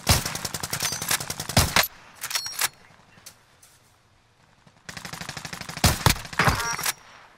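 Gunfire in Call of Duty Modern Warfare, with sniper shots among it: several loud bursts of rapid shots, then quieter scattered single cracks, then another dense volley of shooting.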